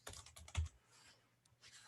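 Keys tapped on a computer keyboard to enter a park's name into a search, a quick burst of close, soft clicks followed by a pause and a few more taps.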